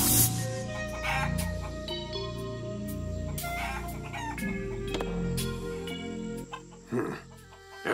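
Chickens in the video game Shenmue 3 cluck and squawk repeatedly over looping game music, with a brief crow-like call near the end.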